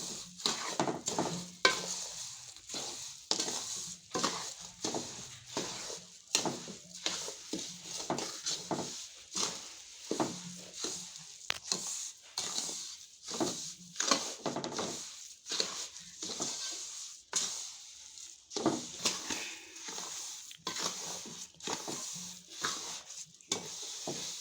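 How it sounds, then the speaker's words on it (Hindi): Sugar cooks in a pan for panjiri while a spoon stirs it, making repeated scraping strokes in a steady rhythm over a soft, constant sizzle, close and fairly quiet, with no talking. "चीनी को अच्छी तरह से पकाएंगे"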